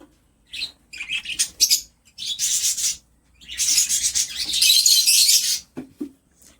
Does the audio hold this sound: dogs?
no